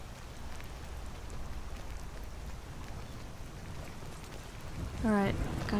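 Steady rain from a video game, a constant hiss of falling drops and patter that runs without a break, with a voice breaking in over it near the end.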